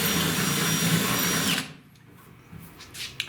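A power tool whirs loudly for about a second and a half as it grinds rust out of holes in the body of a 1966 Buick Wildcat GS, then stops, leaving quiet shop noise.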